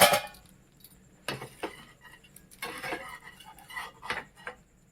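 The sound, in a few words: pot lid being opened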